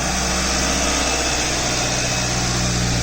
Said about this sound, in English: Ignition on, and it started